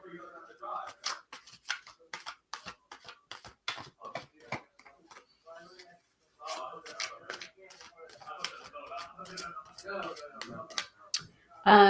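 Tarot cards from a Witch Sister Tarot deck being shuffled by hand, with bursts of crisp riffling and slapping in repeated short runs and a brief pause midway, heard up close.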